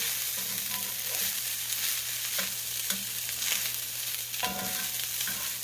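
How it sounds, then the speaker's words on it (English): Fried rice with frozen peas sizzling and popping steadily in a pan, a loud continuous hiss with scattered crackles and occasional stirring scrapes, no voices. "It's really popping and sizzling here."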